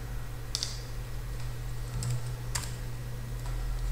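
Keystrokes on a computer keyboard while entering site addresses into a Squid proxy server configuration on CentOS 7, a few scattered clicks over a steady low electrical hum, with no talking.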